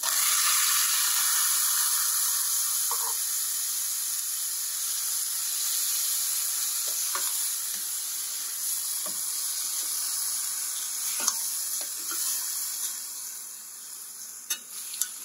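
Onion and tomato paste sizzle in a pan for chickpea masala over medium heat, a steady bright frying hiss with occasional soft stirring taps, close and even throughout.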